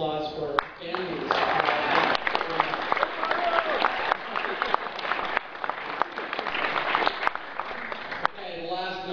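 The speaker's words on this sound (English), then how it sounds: "So a really quick round of applause for families." A graduation audience at an MBA ceremony breaks into applause for the families, a steady burst of many hands clapping close by with a few voices mixed in, ending as a speaker resumes.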